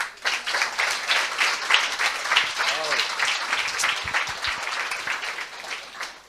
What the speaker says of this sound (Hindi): पहले इस वचन के लिए ताली बजाएं।